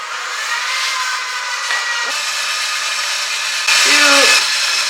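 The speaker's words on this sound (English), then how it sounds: "I don't usually use my stand mixer" A stand mixer with a paddle creams butter and sugar, a loud, steady motor whine throughout that swells briefly near the end.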